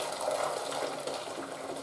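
Steady rushing boiled water pours without a break, a continuous gushing hiss as a pan fills up close by.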